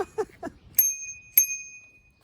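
A bicycle bell on an Ecotric e-bike rings twice, each a bright metallic ding that rings on and fades, following a few soft handling clicks.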